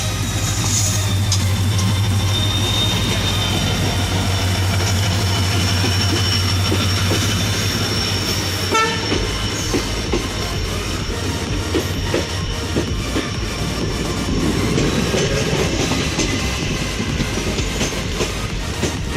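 The Konkan Kanya passenger train runs close by with a loud, unbroken rumble, steady wheel clatter and a high metallic whine that carry on throughout, shifting slightly midway as the cars roll past.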